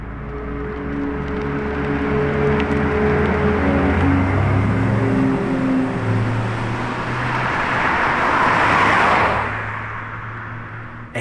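A green Lamborghini Revuelto passes by on the road, its broad engine roar swelling loud and close, then fading, with traffic noise underneath.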